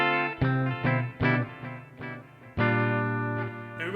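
Electric guitar through a Tech 21 Fly Rig 5 with distortion engaged, playing a handful of sustained, harmonically rich chords and notes struck in sequence, with the last one ringing out long, loud and close with no voices.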